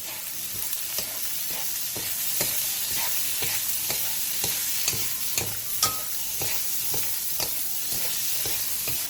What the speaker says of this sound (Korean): 팬에 기름을 두른 뒤 애호박, 어묵, 다진 마늘 1스푼, 소금 4분의 1스푼을 넣고 센 불에서 2분 정도 볶아주세요